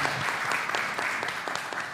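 Audience applause fills a room at a Queens tech-careers event, steady dense clapping with scattered sharper claps, loud and continuous throughout.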